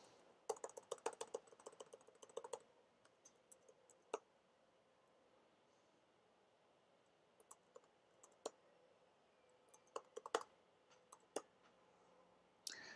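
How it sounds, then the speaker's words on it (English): Keyboard-only play of the browser game Universal Paperclips, with quiet computer key clicks coming in dense bursts early on, then sparse single taps spaced out over a faint room hush, no voices. "This is only using the keyboard, not the mouse."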